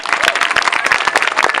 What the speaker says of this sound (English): I want to give another clap out to all of